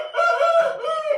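A rooster of a guaranteed breed, offered for sale in Asaka, Andijan, crows once, close and loud, in a single drawn-out call lasting about a second, with no voices over it.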